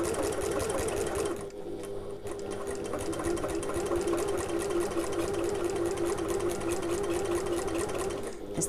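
Sewing machine stitching around the curved corner of a Buddy Backpack, a close, continuous whirring run with one brief dip early on.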